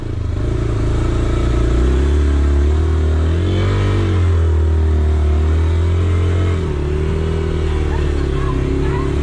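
Three Yamaha SZ16 motorcycles ride together on a family trip toward a river, their engines droning loud and steady up close with rising and falling revs.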